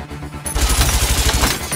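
Rapid automatic gunfire in a shootout at a mansion in the film Bad Boys II. A dense, loud, continuous stream of shots bursts in after a brief quieter moment and lasts over a second.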